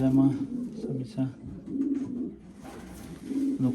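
Low, rolling coos from pigeons of Dutch breeding lines come in short repeated phrases, close by and moderately loud, one after another with brief gaps.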